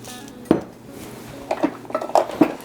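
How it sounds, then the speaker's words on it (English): Graham cracker crumbs tipped into a pan for a cheesecake base, a few hard clinks and scrapes of dish and utensil against the pan, close and uneven. "So now I'm just going to transfer all of this breadcrumb or graham cracker into this"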